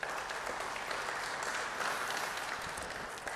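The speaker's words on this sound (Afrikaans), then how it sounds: "Kom ons geef haar een goeie hande klap." A church congregation applauds together, a dense, even wash of many hands clapping at moderate distance for a few seconds with no pauses.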